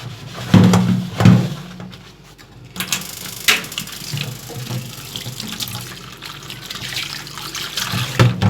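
A kitchen tap runs while something is rinsed, giving a continuous splashing, trickling flow that is loud at the start and wavers as hands move under the water.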